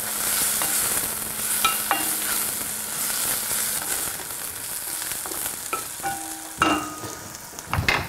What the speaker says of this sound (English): Just keep that moving around so the garlic doesn't get burnt.